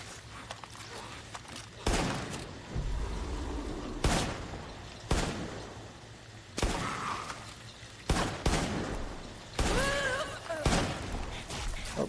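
Gunshots in the Far Cry 5 zombie DLC, sharp loud bursts fired at irregular intervals several seconds apart, with a voice speaking quietly between them.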